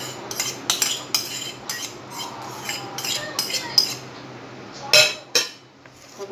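Eggs being stirred into cake batter in a bowl, a series of quick clinking scrapes of a utensil against the bowl, irregular taps, fairly faint and close.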